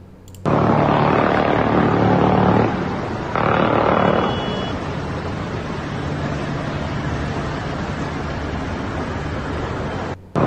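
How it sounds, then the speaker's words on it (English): A UAE Air Force helicopter and an Iranian Shahed 136 suicide drone over Dubai near the Burj Khalifa make a loud, continuous droning engine hum with a sharp surge and drop early on before settling to a steady buzz. "The UAE Air Force helicopter shot down an Iranian Shahed 136 suicide drone near the Burj Khalifa in Dubai."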